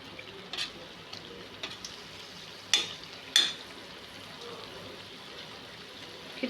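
Curd vadai frying in oil in a pan and being turned: a soft, steady sizzle with a few sharp clinks and scrapes as the pieces are flipped.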